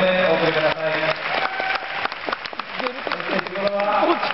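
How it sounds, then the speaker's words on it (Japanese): Crowd applause at a mascot title-match ceremony for the Kawasaki Frontale mascot, with a voice talking over the clapping throughout. "川崎フロンターレ、フロンター君に盛大な拍手をお送りください"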